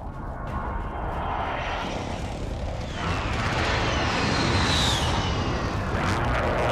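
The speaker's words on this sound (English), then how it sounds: "Enemy precision airstrike." Video game precision airstrike explosions, a dense continuous roar of blasts and rumbling with a rising whoosh or jet pass near the end, loud throughout with no talk.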